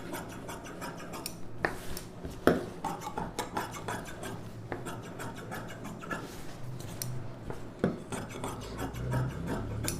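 Scissors trimming excess silk blouse fabric while cutting a lined neck blouse pattern, close repeated rasping snips and fabric rubbing with occasional sharper clicks, steady throughout without speech.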